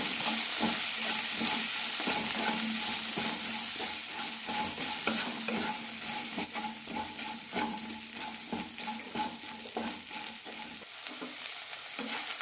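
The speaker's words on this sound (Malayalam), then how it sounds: "പാനിലേക്ക് രണ്ട് ടീസ്പൂൺ എണ്ണ ഒഴിച്ചിട്ടുണ്ട് ഇതിലേക്ക് കുറച്ച് മഞ്ഞൾപ്പൊടി ഉപ്പൂടാം നന്നായി വഴറ്റിയെടുക്കണം" Okra sautéed with turmeric and salt in two teaspoons of oil in a pan, a constant bright sizzle with soft rhythmic stirring scrapes throughout, close up and without any voices.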